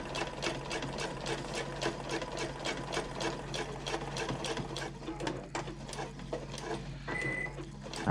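Sewing machine stitching a handbag base to a side panel, a steady fast rattling run of needle strokes that continues close and loud with no talk.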